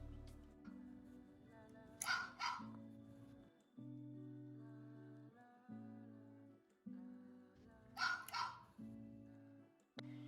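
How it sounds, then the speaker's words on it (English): A LEGO EV3 robot's speaker plays a recorded dog bark, two short bursts of barking heard a few seconds apart over a steady electronic tonal hum, fairly quiet and close. "the robot will bark whenever the sensor is released"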